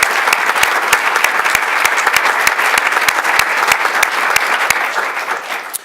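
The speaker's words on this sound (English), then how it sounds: "will you join me in giving all of the students a round of applause?" Conference audience applauding students, steady dense clapping with a few sharp individual claps standing out, loud and continuous for about six seconds before easing.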